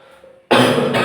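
A single sharp cough from a teacher with a cold during a fourth-grade English lesson bursts in loudly after a quiet moment and trails off as a rough, breathy rush.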